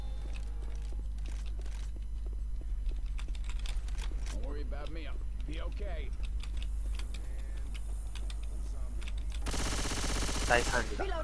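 Rapid gunfire bursts in the Left 4 Dead 2 video game, dense clicking shots running throughout, with a louder noisy burst near the end and voices talking over it.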